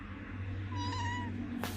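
A single drawn-out cat meow rises and falls for about half a second against a steady low hum, fairly close, followed by a short rustle at the end.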